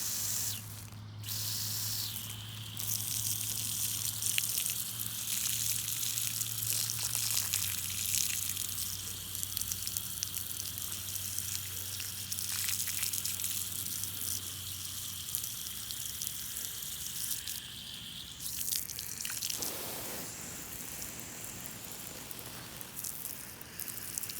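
Liquid is squirted onto a rock geode treated with acid, giving a hissing spray with watery splashing that runs continuously, alongside a steady low hum that stops partway through.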